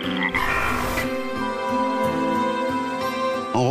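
Frogs croak together in a steady, dense chorus of repeated calls, loud and close, with no talking over them.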